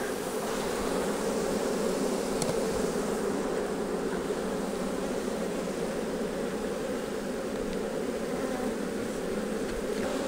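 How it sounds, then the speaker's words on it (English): A dense, steady drone of many agitated honeybees buzzing close by during a hive inspection, constant and unbroken for the whole stretch. "Bees are just rolling off the back here."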